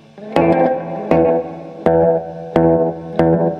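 An electric guitar played through a tape echo delay pedal for a psychobilly tone gives five sharp, twangy picked notes at an even pace, each followed by short, quick repeats that decay before the next attack.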